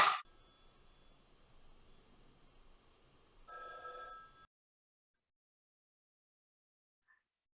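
A telephone rings once in a short bright burst during a rehearsed acting-class scene, following a sharp knock or clap and faint room noise, then silence.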